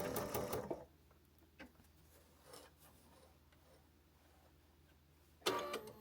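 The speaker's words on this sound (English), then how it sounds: "turn, and just continue sewing" Sewing machine stitching a quilted fabric book sleeve, with short bursts of needle chatter at the start and end separated by a quiet pause and faint handling sounds.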